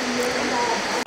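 A waterfall rushes near a hiking trail and a mountain hermitage, a loud, steady broadband roar that cuts off abruptly at the end.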